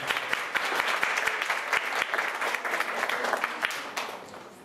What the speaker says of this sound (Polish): Brawa, Pana Romka.